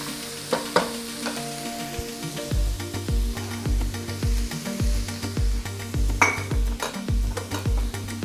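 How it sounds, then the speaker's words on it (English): Sliced peppers for pepper steak stir-fry in a hot pan, a loud sizzle broken by repeated scraping and clacking stirs in an uneven rhythm. "Now I add my peppers."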